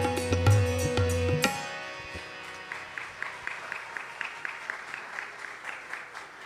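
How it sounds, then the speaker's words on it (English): Sustained devotional music fades out at a Diwali program in a Krishna temple, then the crowd claps; the applause runs continuously and moderately loud to the end, with some claps sounding slightly sharper. "She deserves another round of applause, ladies and gentlemen."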